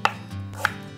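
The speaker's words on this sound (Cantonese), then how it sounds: "首先我哋先切個薑啦" A knife chops ginger on a cutting board, two crisp close knocks about half a second apart over a faint background hum.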